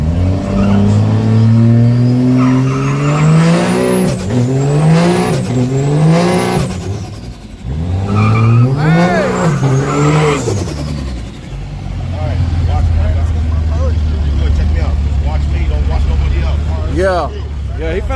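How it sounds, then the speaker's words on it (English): A race car doing a double glue burnout at a drag strip, engine revving hard in rising and falling bursts with tire squeal, loud and close, with people talking over it throughout. "He doing a double glue burnout."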